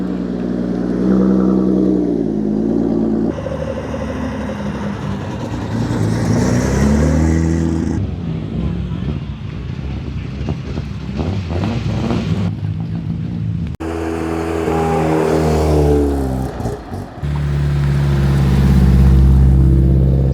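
Porsche 964 RWB on a Great Tarmac Rally drive, engine loud and close, revving up and down through shifting pitch sweeps over about twenty seconds, with a heavy low rumble toward the end and no talk.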